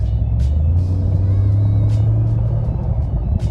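Turbocharged truck driving, a loud steady low engine drone heard from inside the cab with a faint whine above it and a few short hissy bursts, no talking.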